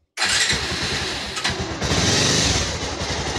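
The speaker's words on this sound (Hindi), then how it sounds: "तभी बाइक को हम स्टार्ट करेंगे।" A Bajaj Pulsar 220F motorcycle engine, fuelled with kerosene and old engine oil during a restoration, cranks and catches at close range, then runs loud and steady with a brief dip and a revving rise.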